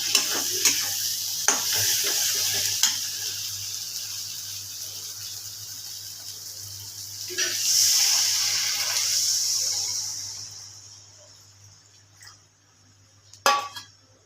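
Water is poured into a simmering fish curry: after a few stirring clinks, a loud hissing rush swells for a couple of seconds and then fades back to a quiet simmer, with a final clatter near the end.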